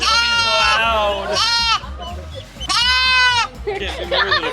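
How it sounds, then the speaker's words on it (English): A baby sheep bleats loudly at a farm petting area, several wavering high cries in quick bursts, with people talking and cooing close by. "Baby sheep."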